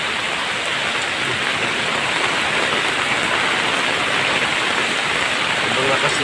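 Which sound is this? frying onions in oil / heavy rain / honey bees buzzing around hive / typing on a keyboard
heavy rain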